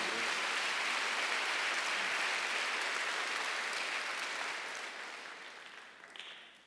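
A church congregation applauds during a Sunday worship service, a dense, steady wash of clapping that holds evenly before gradually thinning and fading toward the end.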